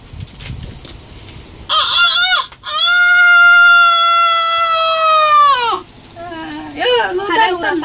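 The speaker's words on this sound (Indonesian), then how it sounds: "Oh, nu jago." A rooster crows once in a long, loud, drawn-out call with a rising start and falling end, preceded by shorter fowl squawks and followed by more clucking and voices.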